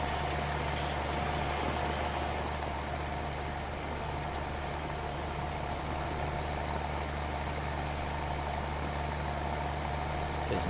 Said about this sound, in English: It's nice to have these little tractors back again.